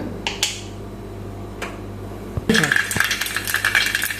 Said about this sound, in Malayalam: അപ്പോൾ നമ്മുടെ കടുക് പൊട്ടി വരുന്നുണ്ട്